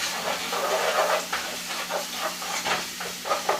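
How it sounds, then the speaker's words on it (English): Peppers and garlic with cumin sautéing in a pan for Puerto Rican ground beef picadillo, a close steady hiss and sizzle with intermittent stirring scrapes, no voices. "you want to saute all of this, because when you saute the peppers and the garlic, it releases some pretty fragrant and tasty oils"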